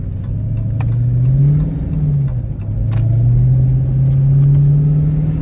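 Dodge Hellcat driving in snow, a steady, loud engine drone with a supercharger-like whine that rises and settles in pitch, running continuously from inside the car without talk.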